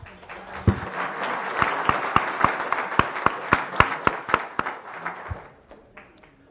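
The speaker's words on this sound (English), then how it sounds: "Please join me in a round of applause for all of our visitors and guests." Applause for visitors and guests at a Rotary Club weekly meeting, a crowd clapping with a run of distinct, sharp, evenly spaced nearby claps standing out over it, then fading away.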